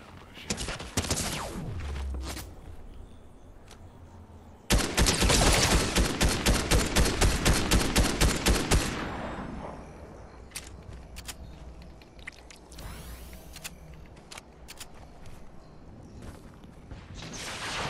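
Rapid gunfire in a no-build Fortnite-style end-game shootout, with a dense burst of automatic fire in the middle, then scattered shots and impacts, loud and close.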